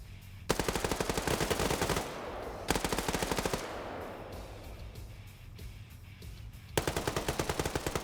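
Automatic machine gun fire in a Wargames PvP video game match: loud, rapid bursts that stop and start, with a long gap before a final burst.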